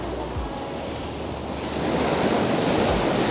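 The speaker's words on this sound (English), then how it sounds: "Got to keep an eye on these waves, because every now and then one of them comes in and catches me unawares." Ocean waves wash steadily onto the shore at close range, a dense continuous roar with wind buffeting the microphone, the surge swelling louder toward the end.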